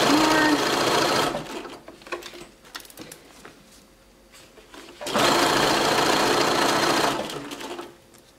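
A sewing machine runs in two loud, steady bursts as it stitches elastic onto a cloth diaper, with a quieter gap between them filled by faint handling sounds.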